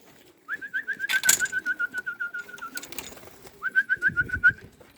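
Young homing pigeons returning to their loft, with bright repeated whistling calls in rhythmic bursts, a short pause, then another run of calls, up close with faint rustling beneath.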